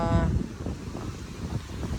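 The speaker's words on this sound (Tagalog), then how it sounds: "Lalo ngayon, napakalakas po ng hangin." Strong wind on the Manila Bay baywalk buffets the microphone with a steady low roar and rumble, loudest at the start and continuing unbroken throughout.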